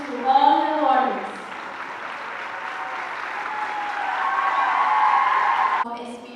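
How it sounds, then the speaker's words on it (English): Crowd clapping at a Benazir Bhutto Women's University convocation, a sustained wash of applause for several seconds after a short spoken phrase, with a voice returning briefly as it fades. "Give them a huge round of applause."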